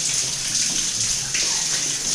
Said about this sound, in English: Nice little shower at the end.